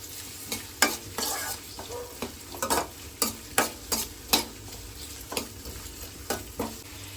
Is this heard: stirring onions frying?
yes